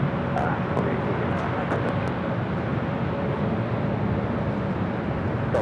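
An airliner roars down runway 24 Left at Los Angeles LAX on takeoff, a loud, continuous broadband jet rumble that holds steady throughout, with faint radio talk underneath.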